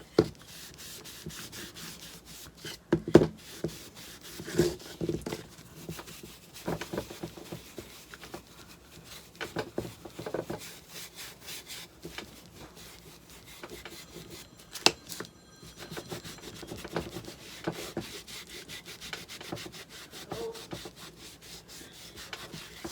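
Cloth wiping brown top coat stain back over a wooden pumpkin made from 4x4 and 2x4 lumber and waxed, giving steady soft rubbing and scrubbing strokes close up, with a few sharper knocks.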